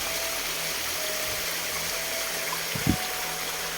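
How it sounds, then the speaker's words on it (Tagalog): Steady broadband rushing of a noisy river fills the whole stretch, loud and continuous, with a brief low thump near the end. "maingay po yung ilog"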